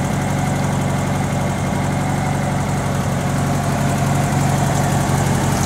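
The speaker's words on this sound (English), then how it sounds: "Engine seems to be running okay." A Kubelwagen engine idles steadily and loudly up close, giving a continuous low rumble with constant vibration and no pauses or voices.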